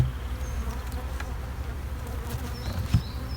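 Honeybees buzz around hive boxes during a honey harvest, a dense close droning hum that holds steady throughout with a few louder passes near the end.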